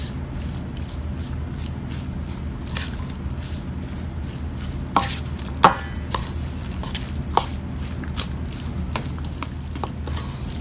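Raw fish being tossed with salt in a bowl for lomi, a series of soft wet squishes and light taps at an irregular pace, close and quiet over a faint steady background.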